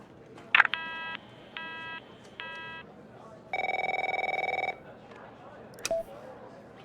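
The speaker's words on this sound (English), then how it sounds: "My phone's ringing off the hook here" Telephone in The Operator video game, with short repeated electronic ring bursts, then a longer sustained ring tone and a few beeps, set against a quiet background.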